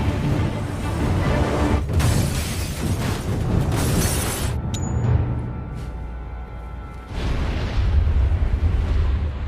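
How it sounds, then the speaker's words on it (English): A car packed with explosives blows up in a huge explosion, a loud, dense roar with a mid-clip impact, a short drop, then another powerful rumbling burst. "leading to a huge explosion"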